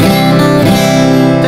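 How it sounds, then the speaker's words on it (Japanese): A guitar played with a flatpick sounds a short, bright run of melody notes over ringing chord tones, close and loud for about a second and a half, with no speech. "これがドレミドレミの音です。"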